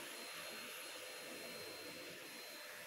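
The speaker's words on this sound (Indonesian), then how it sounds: "Nah pas aku udah pakai vacuum cleaner ini tuh kayaknya semuanya tuh terasa lebih gampang, lebih mudah." UMEDA U-Stik L cordless vacuum cleaner running indoors, a steady whining motor drone with airy suction hiss that holds constant throughout, fairly quiet and with no talking.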